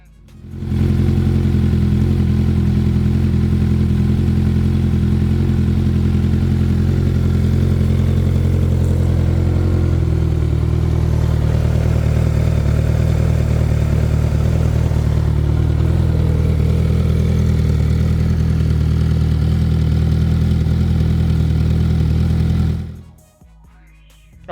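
A motorcycle fitted with a Booster Plug idles steadily for over twenty seconds, a loud, close, even rumble that shifts slightly partway through, then drops away at the end.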